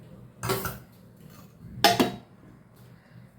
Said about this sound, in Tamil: இப்போ வந்து மூடி வச்சிடலாம்